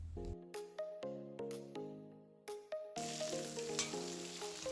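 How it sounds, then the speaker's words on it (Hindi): Chicken frying in hot oil, with a steady sizzling hiss that swells in the second half beneath bright melodic tones and chimes. "तो इतना ही मैं इसे फ्राई करूँगी"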